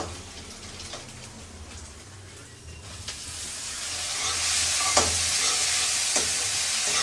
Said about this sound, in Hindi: चूल्हा जल चुका है, खाना बनाने की प्रक्रिया भी शुरू हो गई है।